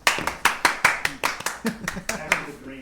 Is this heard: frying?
no